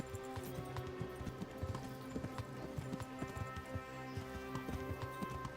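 A horse's hooves clip-clop in a steady, brisk rhythm in the medieval video game Kingdom Come, close and continuous over a droning background of game music and ambience, with no talk.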